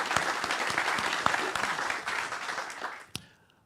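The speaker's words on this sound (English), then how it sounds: "How about a round of applause for that?" Audience at Fippy Fest 2024 applauds the reveal of an EverQuest dragon, a dense, steady wash of clapping from a crowd that holds for about three seconds, then a final sharp clap as it quickly dies away.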